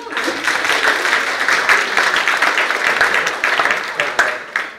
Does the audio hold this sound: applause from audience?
yes